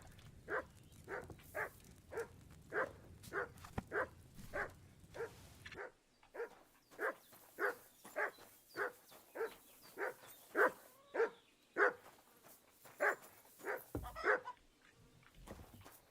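A dog in the video game Kingdom Come: Deliverance 2 barks in a steady run of about twenty-five sharp, evenly spaced yaps, with soft whimpers mixed in near the end, close and moderately loud.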